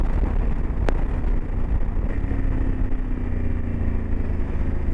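A Honda motorcycle fitted with a quick shifter holds a steady, loud engine drone on the road, with brief gear changes that barely break the continuous roar.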